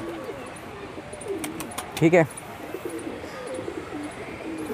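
A male grey pigeon coos briefly in a rooftop loft, with someone talking over faint background chirps.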